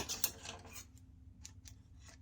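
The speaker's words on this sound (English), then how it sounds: "And cut my threads off here." Scissors snipping thread ends after stitching a fabric water bottle sling strap, a few faint close clicks and snips, the first ones brisker, then quiet small cuts.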